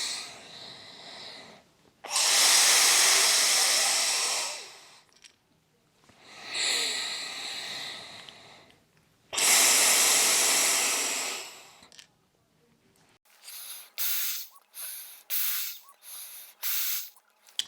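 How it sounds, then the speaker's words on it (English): Breaths blown into a Calmigo handheld anxiety relief device: three long, loud airy exhalations separated by pauses, then a run of short, quick puffs near the end. "I just turn it on and quite simply breathe into it like so."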